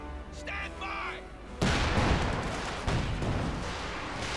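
A Stuka zu Fuss rocket artillery strike lands in a Company of Heroes 2 match, opening with a short rising whistle before a sudden loud roaring blast that rumbles on with follow-up impacts and a second surge.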